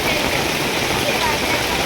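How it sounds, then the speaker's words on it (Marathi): Heavy monsoon rain pours down at Matheran hill station near Echo Point, a steady, dense hiss filling the whole short stretch with no break. "खूप जोरदार असा पाऊस पडत आहे"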